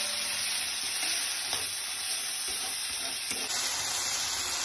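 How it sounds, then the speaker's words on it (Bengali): Ground spices fry hard in hot oil for a chicken dish, a loud, dense, steady sizzle with faint stirring scrapes underneath and no voices. "দেখো মশলা থেকে তেল বেরিয়ে গেছে, খুব ভালো করে আমি কষিয়ে নিয়েছি।"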